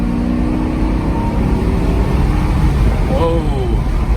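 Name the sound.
Mercedes SL500 car accelerating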